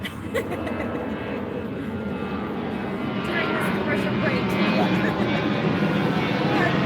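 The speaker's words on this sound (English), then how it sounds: "We got a plane flying over." An airliner passes overhead a backyard garden, its engines making a continuous low roar that swells slightly as it goes by, while someone talks over it.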